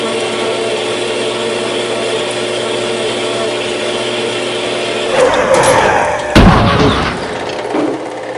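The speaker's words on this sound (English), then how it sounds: "in the bandsaw with the fixture plate, and I'll cut it off" Metal bandsaw cutting off a machined metal piece held in a fixture plate, a steady mechanical hum that breaks into a louder, harsher grinding and clatter near the end.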